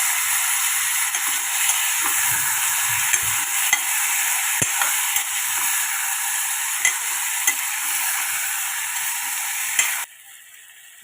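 Steady loud sizzling of boiled chickpeas frying in oil with mustard seeds and asafoetida, with faint scraping from stirring, continuing for about ten seconds before dropping to quiet.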